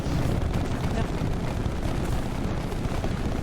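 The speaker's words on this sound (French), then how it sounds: "Salve en approche." In the video game Split Fiction, an incoming artillery salvo explodes as a continuous heavy rumbling roar of blasts, loud and dense with no clear gaps.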